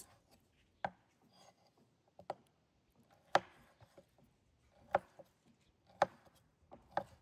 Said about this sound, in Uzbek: Birinchi bo'lib dumbani to'g'rab olamiz.